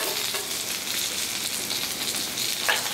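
Salted pork sizzles on a Blackstone griddle top, a steady, close crackle and hiss of frying fat throughout with no voices.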